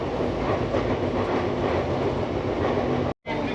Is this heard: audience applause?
no